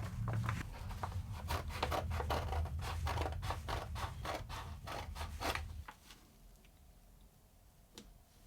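Sticky-backed green felt being cut with scissors, a run of repeated crisp snipping and scraping strokes up close, then stopping into near silence with one last faint tick.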